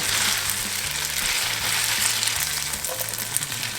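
Parsley sautés in a hot pan with a steady, close sizzle and crackle, broken by faint rhythmic stirring sounds.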